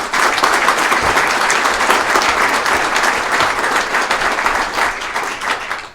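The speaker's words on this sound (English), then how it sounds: "So please give him a round of applause" Banquet audience at a rural education awards dinner applauding board president Lee Carlson, a loud, sustained roar of many hands clapping that tapers slightly toward the end.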